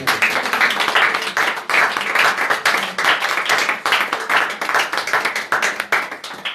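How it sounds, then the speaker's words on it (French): A church congregation at a Tuesday evening prayer service clapping in steady rhythmic bursts, loud and close, with brief pauses between the runs of claps. "Acclamons pour la gloire du Seigneur."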